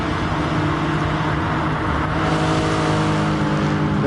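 Race cars in a PS4 racing game roar past together with loud, continuous engine whine and revving, a dense close-up wall of motor noise that swells slightly midway.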